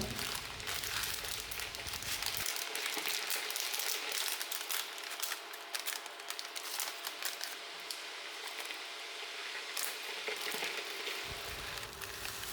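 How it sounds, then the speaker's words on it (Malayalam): A steady bubbling, sizzling hiss fills the whole stretch of milk boiling hard in a pot for palada payasam, with a low rumble at the start and end. "ഇപ്പോൾ ആ പാല് തിളച്ചിട്ടുണ്ട്"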